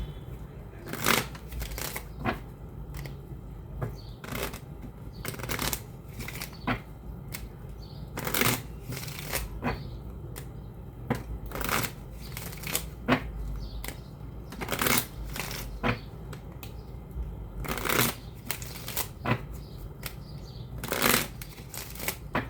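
Playing cards being shuffled repeatedly, crisp riffling bursts coming every second or so, close and fairly quiet with no talking.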